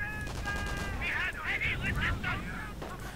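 Gunfire from a sniper and troops in a World War II strategy video game, a steady din of shots and crackling bursts under continuous commentary from a man.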